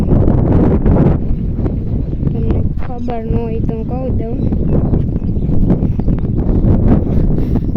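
Strong field wind buffets the microphone in a steady low roar throughout, while someone talks over it in a rural setting where sesame plants are being stacked upright.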